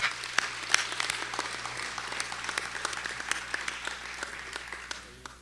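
Steady applause from an audience at a city awards ceremony, with many sharp overlapping claps that carry on for several seconds before thinning and fading out. It sounds fairly distant and soft.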